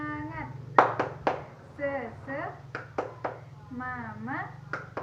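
A teacher demonstrates a rhythmic spirit clap for a class, sharp hand claps in short patterned bursts interspersed with her speaking voice, close and clear.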